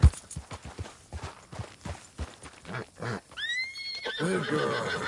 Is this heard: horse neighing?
yes